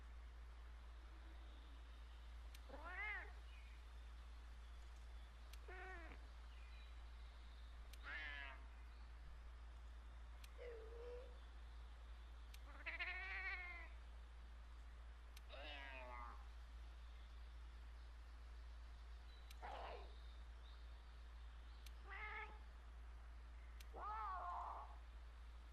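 Cartoonish cat characters from Monster Hunter World meow back and forth in a game dialogue, about ten short rising and falling mews spaced a few seconds apart over a steady low hum.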